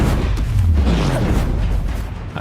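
A Confringo fire spell explodes in Hogwarts Legacy, a loud, low, rumbling boom that fills the moment with a dense roar, close and continuous, without talk.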